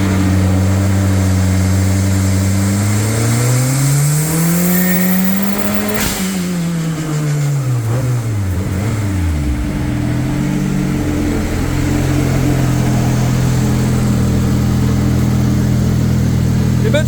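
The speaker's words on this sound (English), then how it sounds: "She likes the rev." A front-wheel-drive car's engine revs loudly and continuously, pitch climbing then falling and rising again over about seventeen seconds, heard close with no talk.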